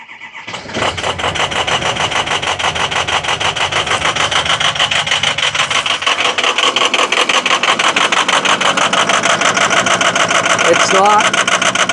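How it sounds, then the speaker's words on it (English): Cold start of a 6.0 Powerstroke diesel in a Ford Excursion with about 290,000 miles: a short crank catches, then a loud, steady, rapidly pulsing diesel idle clatters on close by. "It's not loving a cold start."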